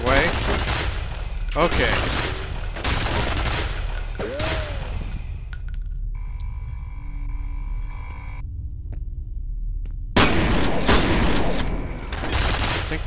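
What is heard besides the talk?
gunshots in the video game FEAR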